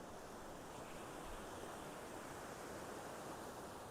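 Near Sonmarg in Ladakh, a fast river rushes with a constant broadband roar, steady and unbroken like heavy rain, and no voices are heard.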